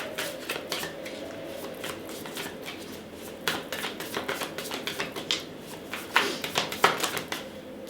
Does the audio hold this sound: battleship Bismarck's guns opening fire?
no